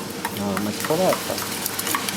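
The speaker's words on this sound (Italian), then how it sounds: "li fondiamo con un pochettino di sale e olio extravergine" Fregula ingredients fuse in a small pan with a little salt and extra virgin olive oil, sizzling steadily up close. Occasional stirring scrapes and clinks sound over the constant frying hiss.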